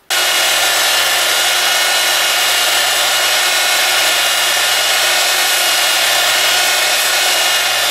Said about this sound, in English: time to hit the sander and smooth this out now that uh, the uh, uh, wood weld is dried